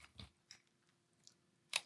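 Someone chews Cinnamon Toast Crunch Waffle cereal in milk. There are a few close, soft crunching bites with short pauses, and a sharper crisp crunch near the end.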